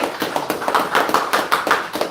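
Applause from a congregation during a Sunday morning church service, a short burst of brisk, evenly paced clapping from many hands, fairly close and loud.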